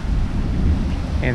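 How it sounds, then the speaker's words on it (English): Outdoor thunderstorm weather with gusting wind and rain, heard as a dense, steady low roar with rumbling that stays loud for the whole brief moment. "You can see it is windy and it's getting rainy"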